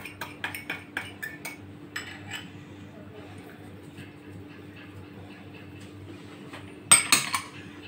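A spoon clinks and scrapes against a bowl while mixing ingredients including yeast and sugar, with a run of quick taps at first, quieter stirring after, and a louder clatter near the end.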